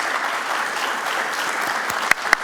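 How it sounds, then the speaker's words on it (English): Steady, loud audience applause fills a panel session at a plenary conference, a dense wash of clapping with a couple of sharper claps standing out near the end. "If you promise to give this group of folks a big round of applause."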